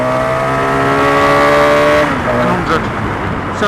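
A motorbike pulls away from a standstill with anti-wheelie engaging, its engine note climbing steadily and loud, then shifting as wind noise rushes in toward the end.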